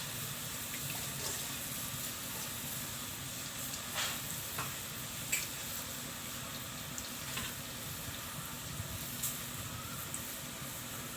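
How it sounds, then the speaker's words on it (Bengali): Boondi batter sizzles and crackles as it fries in hot oil, a steady dense hiss with scattered sharper pops and spatters throughout. "তেলটা গরম হয়ে গেছে, এখন আমি দিয়ে দিচ্ছি ব্যাটার"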